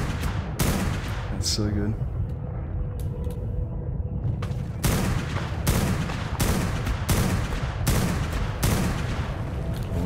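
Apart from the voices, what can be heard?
minigun turret firing in video game ARK: Genesis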